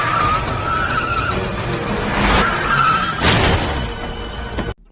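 A car drives hard and skids loudly in a dramatic film chase, with sustained engine roar and tire squeal, sharp screeching bursts mid-scene, and a sudden cutoff at the end.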